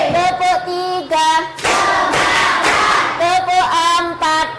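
A classroom of university students claps in unison to a teacher's counted pattern, bursts of rhythmic group clapping and chanting voices alternating with a leader's called-out cues.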